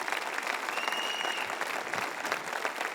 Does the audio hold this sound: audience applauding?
yes